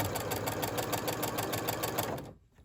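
A bernette b38 sewing machine with a walking foot stitching through several layers of fabric, a fast, steady mechanical chatter that runs continuously for about two seconds and then stops.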